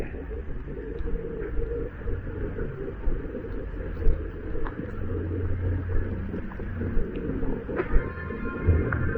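A low, steady rumble of a train rolling along the tracks on a snowy night in Toronto, with occasional faint clanks and squeaks over the continuous drone.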